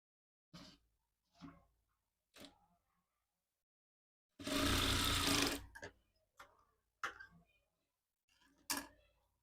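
A sewing machine stitches bordered cloth while a sleeve is sewn, running in one steady burst of about a second and a half midway, between scattered quiet handling noises.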